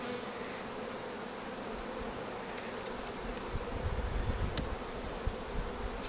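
A close, unbroken drone of honey bees at an opened hive during a colony inspection, swelling slightly louder toward the end with a few faint knocks of handling.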